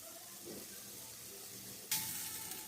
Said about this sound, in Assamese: আৰু এতিয়া ভেদাইলতা তৰকাৰীত গৰম পানী দি দিছে, গৰম পানী দি দিয়া হৈছে।